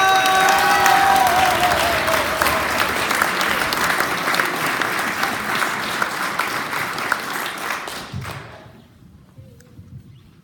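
Loud applause from a large crowd with some cheering, sustained for several seconds before quickly fading away.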